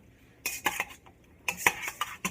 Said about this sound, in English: I'm going to stir that up to get that liquid